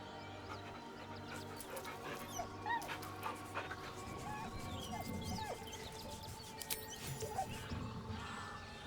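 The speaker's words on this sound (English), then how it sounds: "The dog whimpers nervously" Dog from the video game Baldur's Gate III whimpering nervously, with soft, repeated whines and light panting over faint background ambience.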